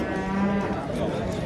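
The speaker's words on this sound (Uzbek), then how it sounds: "Mana sigirga qaranglar." Cow lowing at a livestock market, one close, loud moo lasting about a second over a murmur of background noise.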